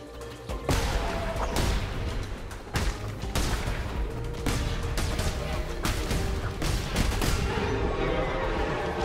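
Bombs going off in Cult of the Lamb, a rapid run of loud, sharp blasts and crashes repeating across several seconds over a dense, busy game backdrop, with no talk.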